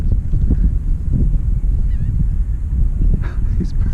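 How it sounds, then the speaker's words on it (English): Birds honk harshly and repeatedly around a fishing topwater lure on the water in the morning, close and loud over a constant rumble of wind and water noise. "Look at these birds going crazy on this top water."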